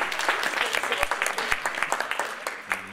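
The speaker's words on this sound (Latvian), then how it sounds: "Aplausi" Applause from an audience at an ideas competition event, a dense patter of clapping with scattered sharper claps, steady and moderately loud throughout, with some voices mixed in.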